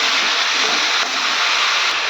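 Salt and turmeric mixture poured into a hot pan hisses loudly and steadily, a broad close-up sizzle holding at one level for a couple of seconds.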